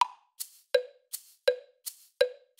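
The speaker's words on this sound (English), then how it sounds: "what I like to do is I like to add the eighth note like on a shaker" Programmed click track in Logic Pro X with an eighth-note shaker, sharp pitched clicks on the beat alternating with soft hissy shaker hits between, steady and close with no voice.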